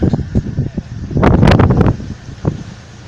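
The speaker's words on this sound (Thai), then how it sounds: "ลมมันแรงมากครับ" Strong wind gusts buffet an Ironman tent on a cliff at Pha Tat, with a loud roaring surge lasting under a second, then a smaller flap and a steady rushing background.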